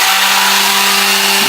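Power sander rounding the corners of a wooden valet piece, a loud, steady high-pitched whine with a constant hum throughout, close up and uninterrupted.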